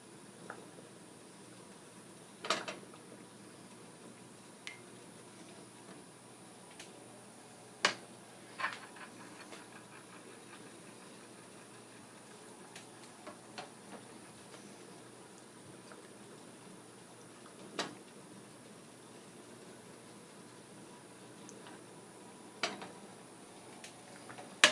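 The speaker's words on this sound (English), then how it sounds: "I'll start with the baking soda. I'll add a little at a time. Start mixing that in." Baking soda being stirred into homemade natural deodorant ingredients in a bowl, quiet scattered ticks and light scraping clicks at irregular intervals over a soft background hush.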